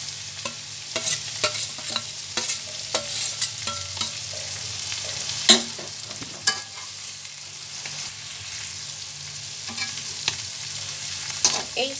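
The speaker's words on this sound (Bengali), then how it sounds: "এখন আমি শাকগুলোকে দিয়ে দিচ্ছি।" Greens, water spinach, hitting a hot pan and stir-fried with dried shrimp: a constant sizzle with repeated sharp spatula scrapes and taps coming at an uneven rhythm, close by.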